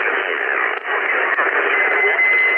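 Amateur radio receiver tuned to a noisy band, giving a steady, dense hiss of static that fills the whole clip, loud and close, with a couple of faint clicks and a weak trace of a voice buried in the noise.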